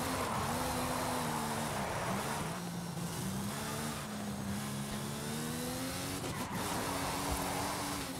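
A Mercedes-AMG Project One hypercar in the video game Forza Horizon 5 holds a steady engine drone during a drift, the pitch wavering as revs rise and fall, with faint tire noise.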